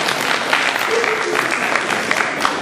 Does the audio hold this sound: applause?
yes